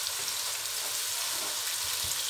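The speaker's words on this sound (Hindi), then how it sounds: "अदरक लहसुन का पेस्ट डालकर 2 मिनट भूनेंगे।" Coarse ginger-garlic paste fries with onion in a pan for village-style aloo gobhi, giving a soft, even, continuous sizzle and crackle with no speech.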